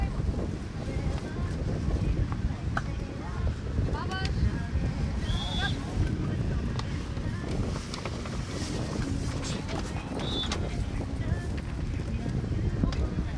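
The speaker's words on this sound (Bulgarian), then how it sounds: "Силният вятър прави проблеми тук и на импровизирания коментаторски пункт" Strong wind buffets an outdoor beach volleyball court at Varna, roaring steadily into the microphone for the whole stretch while a commentator talks over it.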